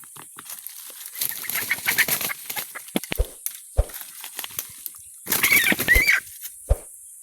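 Low clucks from a wild junglefowl hen come in short scattered bursts, mixed with rustling and some flapping, fairly close with no voices.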